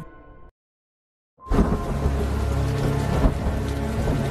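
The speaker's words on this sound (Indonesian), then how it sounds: "Di malam hari yang ditimpa hujan deras" Heavy rain pours steadily at night, a loud dense wash that bursts in after a short silence and continues unbroken, with a faint deeper rumble beneath.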